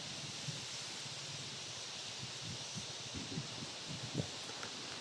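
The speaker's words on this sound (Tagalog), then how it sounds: "Lakas ng hangin." Steady wind rushing through leaves in a continuous rustling wash, with no talking.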